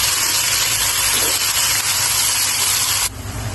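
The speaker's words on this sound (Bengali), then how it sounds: "দিয়ে দিচ্ছি পেঁয়াজ কুচি, একটু বাদামি করে ভেজে নিব।" Chopped onions frying in a pan for a Pangas fish biryani, a steady close sizzling hiss that runs unbroken, then drops slightly in level near the end.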